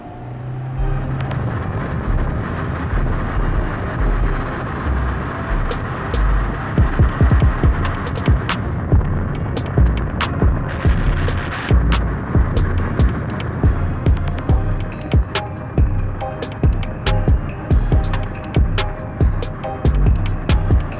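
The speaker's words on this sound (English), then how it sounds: "Let's take it for a little cruise, see how the suspension feels." A Honda EF Civic hatchback with a B17 engine swap cruises along a road, steady engine and road noise interrupted by frequent sharp clunks and rattles from inside the cabin, with no talking.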